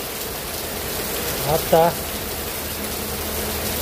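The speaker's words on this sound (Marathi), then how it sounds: "बरोबर 4:20 पाऊस चालू झालाय" Heavy rain pours steadily at a poultry farm in Madhevadgaon, a dense even hiss throughout, with a brief spoken word partway through.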